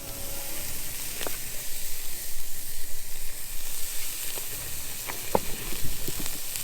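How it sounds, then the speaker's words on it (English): Steady sizzling hiss of food cooking on a charcoal grill at a campsite near Lake Panasoffkee, Florida, with a few sharp pops and crackles scattered throughout. "listen to them sizzle."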